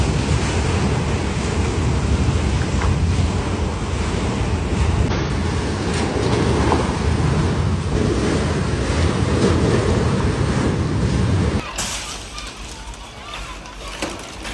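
Water surging and sloshing out of a swimming pool during California's magnitude 7.1 earthquake, a loud, steady rush of churning waves with wind buffeting the microphone, dropping off suddenly near the end.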